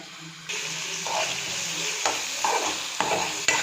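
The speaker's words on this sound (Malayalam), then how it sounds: "ഇത് നന്നായിട്ട് ഇളക്കി കൊടുക്കുക" A spoon stirs macaroni with tomato, onion and salt in a hot pan, giving a steady scraping and sizzling with a few sharper knocks against the pan, close and continuous, with no talking.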